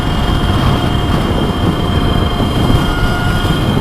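A Redshift SM electric motorcycle at full throttle around 60 mph gives a loud, steady roar of wind and road noise with a faint motor whine underneath.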